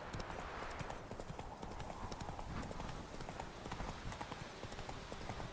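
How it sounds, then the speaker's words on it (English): Horse hooves clip-clopping steadily in The Witcher 3 video game, a dense continuous patter of hoofbeats held at low level under a busy wash of background game sound. "That was my horse, not me."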